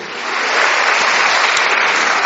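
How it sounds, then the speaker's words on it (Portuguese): A church congregation applauds the Lord during a service, loud dense clapping that swells in over the first half second and then holds steady and close with no talking. "levanta sua mão e aplauda o Senhor"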